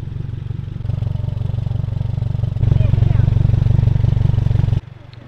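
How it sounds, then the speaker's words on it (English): A Subaru WRX fitted with a Tomei full titanium Expreme exhaust idles nearby with a steady, low, even burble that steps up slightly in loudness partway through, then drops off near the end. "The idle is very close to what the stock exhaust was."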